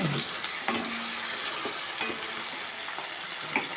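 Ongole-style chandava fish curry being stirred in a pan, with soft sizzling and a few scraping stir strokes, close and fairly quiet, no talking.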